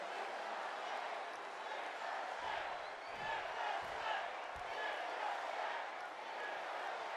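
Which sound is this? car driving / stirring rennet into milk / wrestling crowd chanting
wrestling crowd chanting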